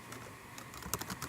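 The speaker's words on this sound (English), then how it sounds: "So I'm going to go ahead and type" Keys on a computer keyboard are tapped in a short, quiet burst of irregular clicks, close and soft against faint background hiss.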